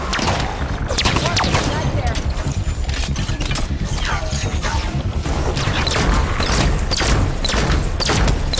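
Continuous combat gunfire from Halo 5's legendary solo campaign rattles without pause, loud and close, mixed with impacts and crashes while voices talk underneath.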